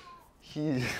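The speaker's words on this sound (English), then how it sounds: "My cat is here for, I don't know, for for meowing." An old, deaf 20-year-old cat lets out a single loud, drawn-out meow up close, rising and then falling in pitch, after a quiet moment.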